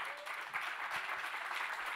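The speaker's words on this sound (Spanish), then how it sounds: "les voy a pedir un fuerte aplauso para Federico Janmer" Audience applause greeting Federico Janmer as he comes on, a soft, steady patter of clapping from a crowd, fairly faint and continuous through a brief stretch.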